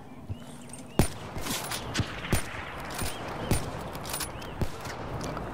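Sniper rifle shots in a 1v1 video game match, several sharp, spaced cracks spread across the stretch over low background game noise.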